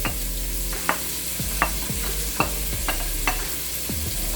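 Bell pepper and onion fry in hot oil in a pot, with a constant sizzle broken by several sharp clacks of a utensil stirring against the pot, close up and with no talking.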